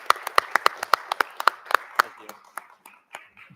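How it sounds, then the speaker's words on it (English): A small meeting audience claps for a Board of Education, a short burst of sharp, distinct hand claps that thins out into a few scattered ones within seconds. "round of applause for the board"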